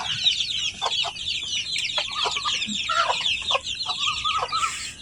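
Chickens cluck inside a fenced rooftop garden enclosure, a busy run of close, repeated clucks and short calls over faint background noise, with no talking.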